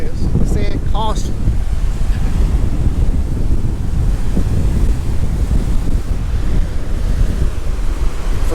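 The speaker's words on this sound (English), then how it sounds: "How strong the wind is." Strong wind buffeting the microphone on a beach in Mazatlan, a loud continuous roaring rumble mixed with surf, steady throughout with a few faint voices briefly audible at the start.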